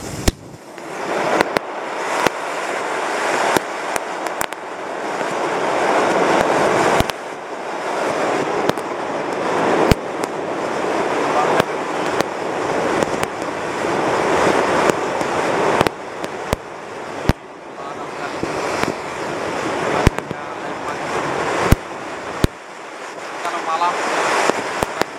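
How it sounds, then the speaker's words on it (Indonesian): A mega jumbo fountain firework burns inside a sand cave, a continuous rushing, crackling hiss with sharp pops and wind buffeting the microphone, lasting the whole stretch outdoors. "Dan ini yang terakhir, air mancur mega jumbo, kita masukkan ke dalam gua pasir."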